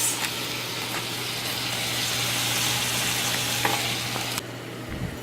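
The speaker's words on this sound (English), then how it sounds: "Got a nice sizzle going, and this is going to cook down about 3 minutes." Food sizzles steadily in a hot pan, a soft continuous crackle with occasional louder pops and a faint stirring scrape near the end.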